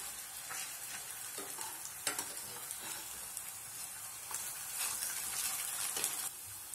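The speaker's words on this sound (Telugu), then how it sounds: "ఇలా తిప్పుకుంటూ బాగా ఫ్రై చేసుకుందాము." Potatoes sizzle steadily in a hot pan while a utensil scrapes and stirs them in a few sharp bursts, close and continuous with no talking.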